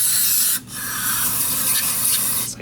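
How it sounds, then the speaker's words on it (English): Gumout carb cleaner hisses from an aerosol can onto an open Corvair carburetor in two sustained bursts separated by a brief pause, close and fairly loud, with no talking. "let's just clean this thing up real quick with a little bit of gum out carb cleaner"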